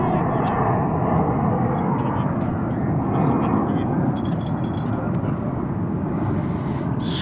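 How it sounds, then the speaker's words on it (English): An Air France jet, Flight 159 bound for Paris, rolls for takeoff on runway 35 left at DFW Airport, producing a continuous heavy engine roar that stays loud and even throughout. "that Air France flight is about to lift off from runway"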